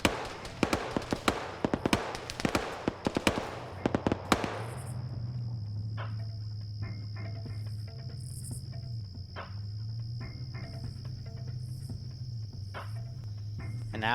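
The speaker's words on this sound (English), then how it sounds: "You got the 113 firing down at Hanu." Gunfire from an M113 armored vehicle in a video game: a dense run of loud, sharp bursts for about four seconds, then it drops away into a steady, chirping insect ambience with only scattered faint pops.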